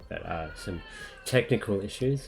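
A pet cat meows a few times amid a man's close, continuous talking, its cries blending with his voice.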